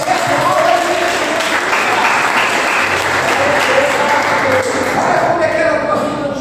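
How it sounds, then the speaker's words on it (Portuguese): Sustained applause from a large church congregation, steady and dense throughout, with voices mixed in underneath. "Você pode aplaudir ao Senhor"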